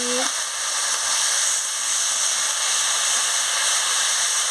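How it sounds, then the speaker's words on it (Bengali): Telakucha leaf curry with salt is stirred in a pan, giving a steady, fairly loud hissing sizzle that continues evenly throughout, with a brief tonal blip at the start. "পরিমাণ মতন নুনটাও দিয়ে দিচ্ছি, দিয়ে ভালো করে নাড়িয়ে নিচ্ছি"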